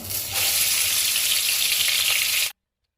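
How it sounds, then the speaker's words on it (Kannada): Onion paste sizzles loudly as it fries in hot oil for a prawn masala, a steady bright hiss that swells after a moment and then cuts off abruptly, with no voices. "ಅದನ್ನು ಇವಾಗ ಹಾಕಿ ಚೆನ್ನಾಗಿ ಆಯಿಲಲ್ಲಿ ಫ್ರೈ ಮಾಡಬೇಕು."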